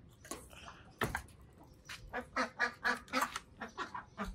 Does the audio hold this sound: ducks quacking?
yes